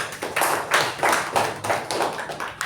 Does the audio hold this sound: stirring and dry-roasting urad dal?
no